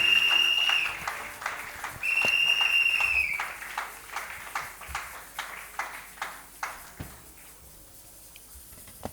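A church congregation at a Sunday service claps and cheers, with high sustained whistles or ululating cries over the opening seconds, then settles into steady rhythmic clapping that fades toward the end.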